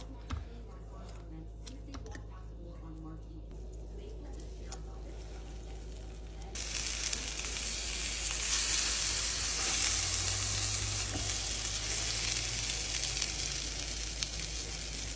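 Stuffed challah French toast fries in a pan, a soft crackle at first that swells into a loud steady sizzle once more bread goes in, with talk over it.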